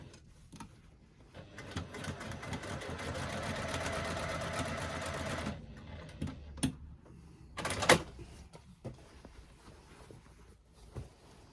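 A sewing machine stitches a bag seam in a steady run of rapid needle strokes for several seconds, then stops, followed by a few short bursts and handling clatter; close and fairly quiet.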